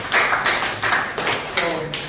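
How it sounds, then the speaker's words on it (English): A short round of classroom applause, a handful of claps in quick, uneven bursts from a small group, close and moderately loud. "Give a round of applause."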